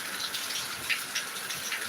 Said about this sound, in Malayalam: ആറ്റിങ്ങൽ നല്ല പെരുമഴ ഭയങ്കര മഴ കേട്ടോ പെരുമഴ